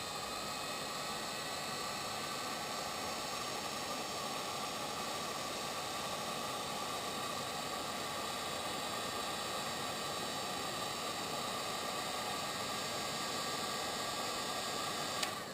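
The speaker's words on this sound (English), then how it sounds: "I'm just going to heat gun this." A heat gun blowing hot air to shrink heat-shrink tubing on a 5.8 GHz FPV antenna, a constant loud fan hiss with a whining tonal hum, steady throughout with no pauses.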